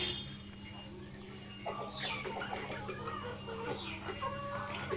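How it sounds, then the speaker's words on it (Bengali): Chickens cluck and call at a poultry farm selling local, farm and layer hens and chicks, a steady crowd of clucks over a constant low mechanical hum, growing busier partway through. "দেশি মুরগি, ফার্মি, লেয়ার।"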